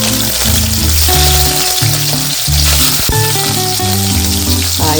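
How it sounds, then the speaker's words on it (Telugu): Food frying in hot oil while background music plays, heard as a loud, continuous dense sizzle throughout the clip. "వేడి చేసిన తర్వాత ఆయిల్లో వేయించాలి."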